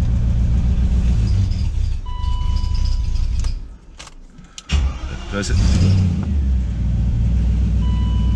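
A BMW 735i V8 runs in a rough, idle-like drone. A person talks over it, the engine dips briefly in the middle with a few clicks, then returns to its steady hum.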